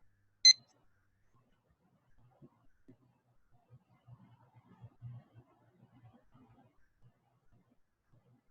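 Short electronic classroom timer beep rings out once at the very start, bright and clear, followed by quiet, scattered low murmurs and soft movement sounds.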